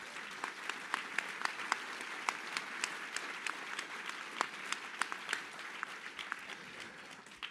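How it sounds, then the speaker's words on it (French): A conference audience claps steadily for a speaker at a talk on the war in Ukraine, with dense applause from a mid-distance crowd and scattered sharper claps standing out throughout. "je vous demande de l'applaudir très fort, Kira Rudik."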